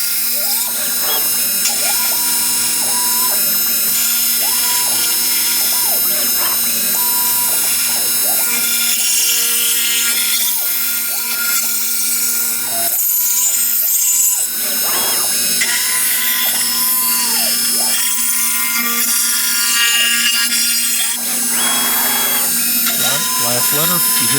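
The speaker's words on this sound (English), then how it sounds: "And where it's milling the side there, this is doing a cleanup pass." A Power Route Max CNC router mills a pet grave marker on a cleanup pass, a loud continuous whine with a steady hum and repeating cutting sweeps throughout.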